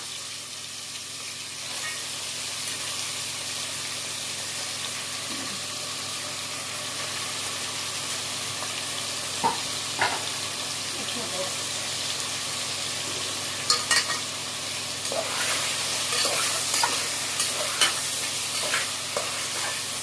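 Cooked mutton and onions fry in oil with a continuous, even sizzle, while a spoon stirs and scrapes the pan now and then, the clinks growing busier toward the end.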